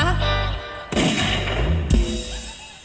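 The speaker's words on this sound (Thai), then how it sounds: "เสียงปืนยิงขึ้นฟ้า" Two sharp gunshot blasts ring out about a second apart, each followed by a rumbling echo, over a low steady background.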